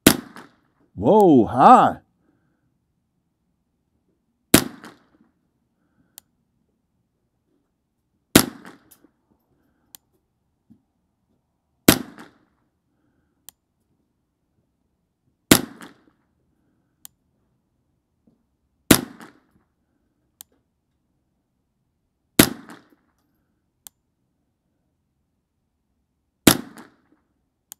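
A Ruger 10/22 Takedown rifle with a Summit Precision bull barrel fires eight sharp, loud single shots at steady intervals of a few seconds, after a brief exclamation at the start.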